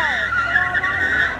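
Car tires screeching in a long skid on a busy city street in Philadelphia, a loud, sustained squeal with wavering pitch, heard without speech.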